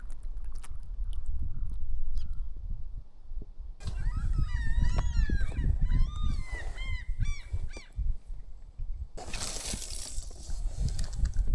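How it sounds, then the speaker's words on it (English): Seagulls call loudly and raucously in a cluster of harsh honking cries close by, heard from a rubber boat, over a steady background rumble and splashing noise. "That bird is making a lot of noise."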